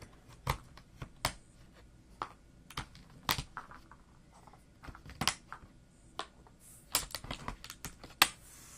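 A computer keyboard is handled key by key while being cleaned, giving sparse, crisp plastic clicks and taps. They come at an irregular pace, quiet and close, with silence between them.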